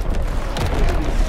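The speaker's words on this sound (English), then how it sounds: "Incoming enemy artillery." Loud, dense battlefield rumble from Call of Duty: WWII, with a heavy low boom from incoming enemy artillery swelling midway through a steady roar of combat noise.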